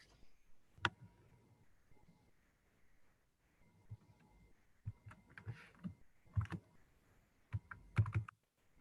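Computer keyboard typing during a remote troubleshooting session, scattered clicky keystrokes in short bursts, close and fairly faint, growing busier toward the end with no talking.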